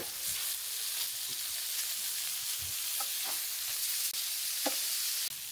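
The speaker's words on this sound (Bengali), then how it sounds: "আমি এক একটা সাইড 2 থেকে 3 মিনিট করে ভেজে নেব।" Surma fish frying in hot oil, a steady close sizzle with continuous hissing crackle and a few soft clinks of a utensil, no voices.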